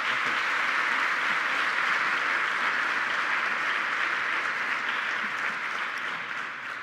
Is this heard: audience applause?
yes